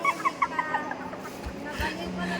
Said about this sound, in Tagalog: Ito si Tandang Azur